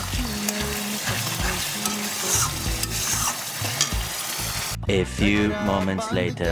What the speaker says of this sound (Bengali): মশলাটা কিন্তু আমি একটু কষিয়ে নেব